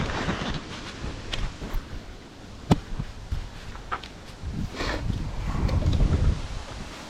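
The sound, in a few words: strong wind outdoors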